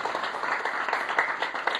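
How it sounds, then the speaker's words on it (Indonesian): Congregation clapping together during a church sermon, a steady dense patter of many hands at moderate loudness with no pauses. "Beri tepuk tangan yang terbaik buat Tuhan Yesus."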